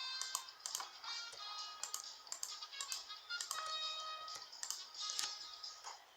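Quiet, rapid clicking and tapping on a computer keyboard and mouse, irregular bursts of light keystrokes close by.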